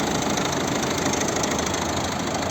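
A 2010 Volvo V50 1.6 HDi diesel engine idles steadily with a low, even rumble and faint knocking texture, close and continuous.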